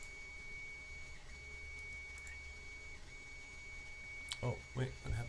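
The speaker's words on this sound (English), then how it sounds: "I wonder how loud that is on the video, the 3D printer" A 3D printer runs quietly in a room with a steady hum and faint thin whine, soft stepper tones drifting underneath, then a few louder clunks and knocks near the end.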